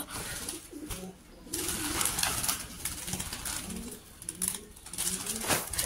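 Caged pet pigeons coo steadily in a close, repeated low rhythm, with a few brighter bird calls over a background hiss; no speech.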